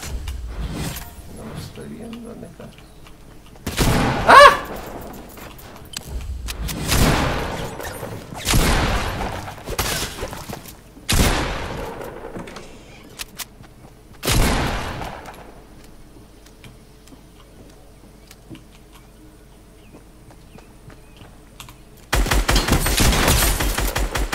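Fortnite gunfire: several sharp bursts of shots spaced a few seconds apart, loud and close, with a steadier stretch of firing near the end.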